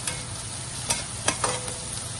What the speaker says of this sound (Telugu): పసుపు పచ్చి వాసన పోయేంత వరకు ఫ్రై చేసి